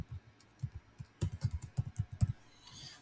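Quick run of typing on a computer keyboard, close and distinct, with a steady patter of key clicks that builds into a denser burst midway, heard alone without talk.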